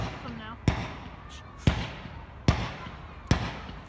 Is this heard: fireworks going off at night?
yes